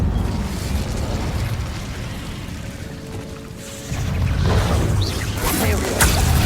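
Incendio fire spell cast in the Hogwarts Legacy video game, a loud whooshing fiery burst that swells midway and roars on in a dense rumble.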